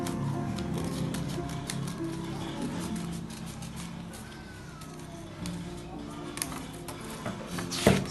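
Scissors snipping through fabric for a reusable sanitary pad, a steady series of soft cuts running through the whole stretch over a low hum, with one louder rustle near the end and no talk.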